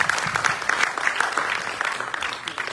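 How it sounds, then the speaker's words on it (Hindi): An audience applauds after a stage performance, with dense, steady clapping from a crowd indoors at moderate loudness, tapering slightly toward the end. "इनके लिए कृपया तालियों से इनका पुनः संवर्धन करें।"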